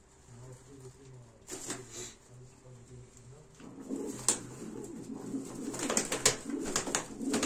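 Iraqi Sharabi pigeons give repeated low, soft coos close by, steady for several seconds before a busier stretch of fluttering and rustling takes over.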